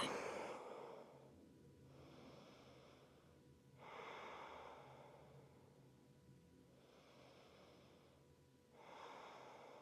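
Slow, deep yoga breaths during a vinyasa flow, each long airy exhale rising and settling in a steady rhythm of about four rounds, close and soft with no talking.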